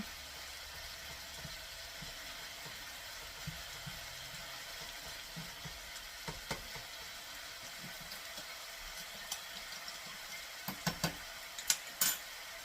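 Beef fries in a pan with a soft, steady sizzle throughout, faint and even, with a few light clinks and taps toward the end.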